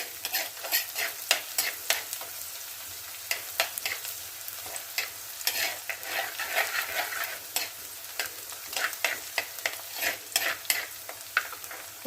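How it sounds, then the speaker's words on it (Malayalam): Onion and dried red chillies fry in hot oil with a continuous crackling sizzle, punctuated throughout by quick stirring scrapes of a spoon in the pan, close and alone without speech. "ഉള്ളി മൂക്കുമ്പോൾ നമുക്ക് വറ്റൽമുളക് ഇട്ട് കൊടുക്കാം"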